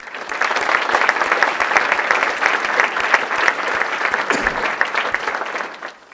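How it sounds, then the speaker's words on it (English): Sustained audience applause fills a college State of the College address, a dense, steady wash of many hands clapping for about six seconds before tapering off at the end. "Would you help me applaud the many that I did not mention today?"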